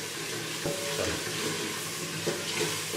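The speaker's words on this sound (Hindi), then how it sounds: "अब हम इनको अच्छी तरह भूनेंगे।" Masala seasoned with salt and turmeric fries in a pan for kadhi chicken pakora, giving a steady broadband sizzle with occasional stirring scrapes, fairly close and continuous with no talking.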